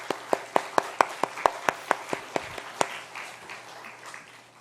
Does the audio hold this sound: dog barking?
no